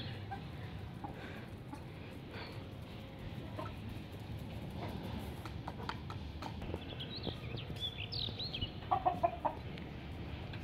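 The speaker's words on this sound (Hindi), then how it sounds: "ये देखे मुर्गियाँ, ये मुझे ऐसे देख के भाग रही थी" Chickens cluck and call on a rooftop outdoors, faint and scattered at first, then a short burst of louder clucks near the end, over a low background rumble with occasional knocks.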